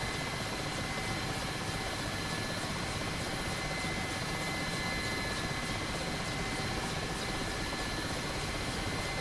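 A Mi-8 helicopter in the DCS combat flight game lifting off, its rotor and turbine roar steady, loud and continuous throughout with a rhythmic blade chop and a constant high whine, with no voices over it.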